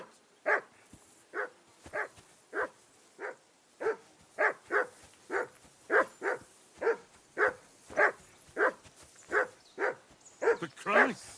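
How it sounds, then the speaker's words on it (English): A dog barks repeatedly in the video game Kingdom Come: Deliverance II, a long series of evenly spaced single barks at moderate distance, steady and rhythmic, with a few quicker doubled barks toward the end. "Call off that damn dog before he wolfs down the last of our mates."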